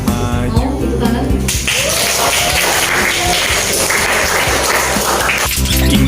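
Applause from a group of teachers at an Indonesian school coaching and academic supervision session: a dense burst of clapping that swells in the middle and fades at the end, with tonal sound before and after.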